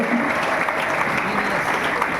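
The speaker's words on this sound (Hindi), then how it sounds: "इतना बढ़िया डायलॉग मैंने बोला तो मैं तो ताली बजा देनी चाहिए थी" An audience at a song launch event breaks into steady, dense applause, many hands clapping at once for a couple of seconds without a break.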